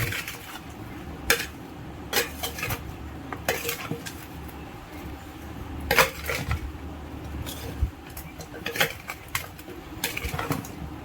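Avakaya mango pickle being mixed with mustard powder in a pot, with repeated close scraping and clinking of a spoon or hands against the metal vessel in an irregular rhythm, no talking.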